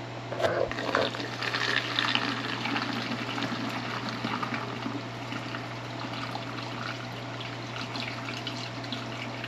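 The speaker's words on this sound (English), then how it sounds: "pour your mixture" Homemade cleaner mixture pours and splashes into a jar continuously for several seconds, a steady trickling wash that stays fairly even throughout.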